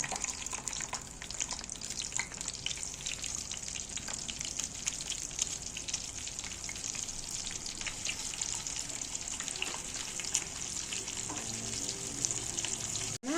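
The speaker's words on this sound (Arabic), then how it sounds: "الزيت سخن، هحط السمك يتقلي" Flour-coated fish frying in hot oil gives a steady, dense sizzle with crackling and spitting that runs unbroken from start to finish.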